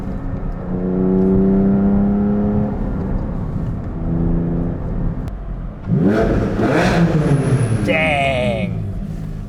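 A Porsche 718 Spyder with a new Akrapovic exhaust and steel brakes, heard in cold weather: engine drone and revving, then a squeal-like whine from the brakes as it slows, with someone talking over it.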